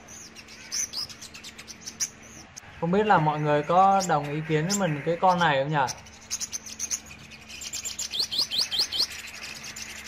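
A sunbird sings in quick, high chirping bursts at the start and end, while a person talks steadily through the middle and partly covers the song.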